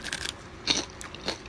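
Fresh garden pea pods are bitten and chewed, making three short crisp crunches spaced apart, close and moderately loud, with no talking.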